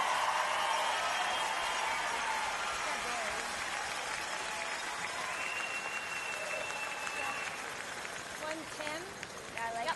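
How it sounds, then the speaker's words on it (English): A large arena crowd at a women's curling semifinal erupts in sustained applause and cheering, a dense continuous roar of clapping that stays loud and close for the whole stretch, with a commentator's voice faintly mixed in. "And listen to the crowd."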